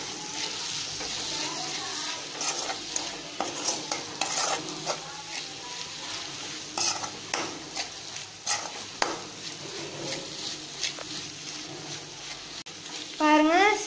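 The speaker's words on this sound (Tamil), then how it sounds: "நம்ம சீனியை தூவி கிளறிக்கலாம்." Sugar being stirred into a frying Sri Lankan onion sambal in a pan, with steady sizzling under repeated scraping and clinking of a spoon against the pan.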